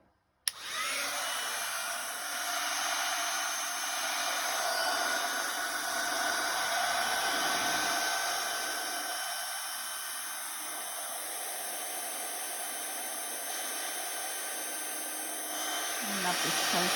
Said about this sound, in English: heat embossing tool.